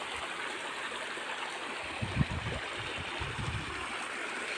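Stream of fresh water flowing steadily in a rural outdoor spot, a constant close rushing wash with a few louder gurgles partway through.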